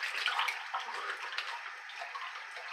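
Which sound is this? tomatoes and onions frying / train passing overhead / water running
water running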